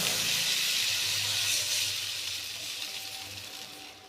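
Water from a glass poured into a very hot pan on a high gas flame, giving a loud, steady steam hiss and sizzle that slowly fades.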